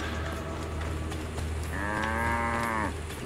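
A cow moos once in Assassin's Creed Origins, a single drawn-out, clear low call lasting about a second, heard above a constant low ambient hum.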